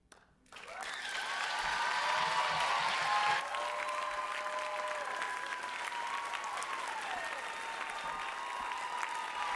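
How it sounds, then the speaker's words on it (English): A theater audience at a university diversity monologues event applauds warmly after a monologue, the clapping rising quickly and holding steady and full for several seconds, with a few voices mixed in. "Can we give Kalani one more warm round of applause?"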